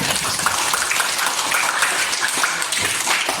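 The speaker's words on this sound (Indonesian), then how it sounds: "Tepuk tangan buat kalian semua." Steady applause from a crowd, dense and continuous clapping throughout with no voices standing out.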